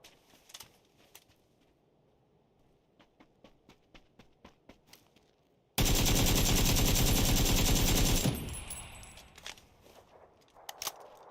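A gun with heavy recoil opens up in a battle royale video game with a loud, dense burst of automatic fire lasting a few seconds. Quieter rhythmic taps come before it and fainter clicks follow.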